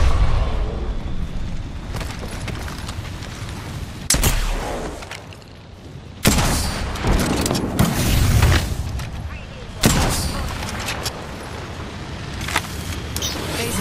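A grenade blows up in Apex Legends, one of several sharp booms set among steady gunfire and busy battle noise, while a player talks throughout.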